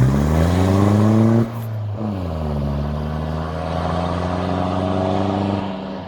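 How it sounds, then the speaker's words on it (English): A tuned, lifted Roxor off-road vehicle revs hard through power shifts, its loud engine note rising in stepped pitch sweeps, dropping sharply at a shift and climbing again, close and continuous with no voices. "I want you to just do like some power shifts to that curb and then come back"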